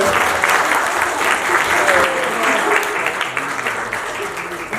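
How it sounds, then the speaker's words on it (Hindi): Enthusiastic audience applause as a guest is called onto a stage, steady dense clapping throughout at a fairly even, loud level with no talk over it. "संजीव आनंद झा की जोरदार तालियां हो जाए."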